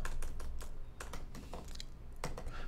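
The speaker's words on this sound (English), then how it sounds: "You can just start typing and it'll go right to it." Keys clatter on a computer keyboard in quick, uneven bursts of clicks, close and moderately loud, with no talking.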